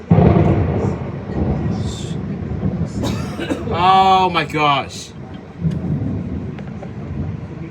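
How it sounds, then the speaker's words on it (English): Thunder from a summer thunderstorm rolls as a deep, loud rumble, mixed with a startled voice exclaiming in the middle. "A thunderstorm."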